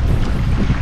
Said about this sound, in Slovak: Silný vietor sa spustil, aj veľké vlny a uvidíme teda.